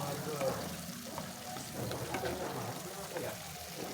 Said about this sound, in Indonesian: Tumis sebentar sampai petenya setengah matang.